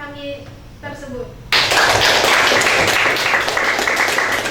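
A school class claps hands together in a classroom, breaking into loud, sustained group applause after a brief stretch of a teacher's talk.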